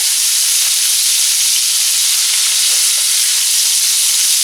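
Pork chops fry steadily in a pan, giving a loud, continuous close sizzle and hiss that runs the whole time without pause or voices.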